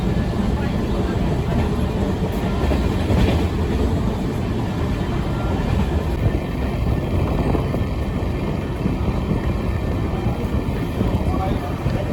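Inside the Amrit Bharat Express from Malda toward Bengaluru, a steady loud rumble and rattle of the moving train carries on throughout, with a murmur of passengers' voices underneath.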